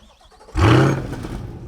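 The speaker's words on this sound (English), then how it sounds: "Oh, it sounds so good. I'm gonna miss that pushrod V8." A Corvette pushrod V8 engine cranks and fires with a sudden loud bark in a garage, then settles into a deep, rumbling idle, close by.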